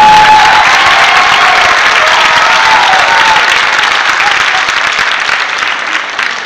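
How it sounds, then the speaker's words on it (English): Loud, sustained applause from a large crowd at a family conference event, a thick continuous roar of clapping with faint cheering, slowly easing toward the end. "Let's have a big round of applause for Lori Fahey, my dedicated co-directors, the youth council, the volunteers, and all the participants of Family Cafe."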